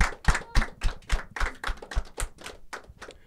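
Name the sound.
audience applause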